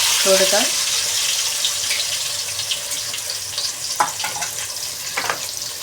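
Chopped ginger and garlic frying in ghee for Tamil-style jeera rice biryani: a steady background sizzle with scattered stirring clatters and utensil knocks, a brief voice-like tone near the start.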